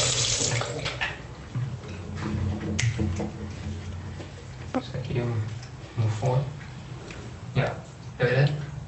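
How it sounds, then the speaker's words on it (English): Tap water runs from a faucet into a sink during handwashing at home, a steady splashing wash with small clicks and knocks, while adults and someone talk over it. "Okay, Jay, so you open the faucet first."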